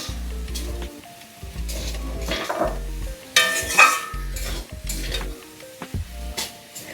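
Bottle gourd and prawns frying in a pan, stirred with a spoon that scrapes and knocks against the metal over a steady sizzle. Close and moderately loud, with an intermittent low hum running underneath.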